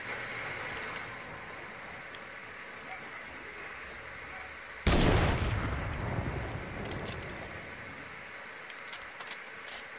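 Gunfire in a video game: a long stretch of quiet background hiss, then a sudden loud burst of shots that fades out, followed by a few scattered sharp cracks.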